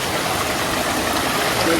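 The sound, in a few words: river water flowing over rocks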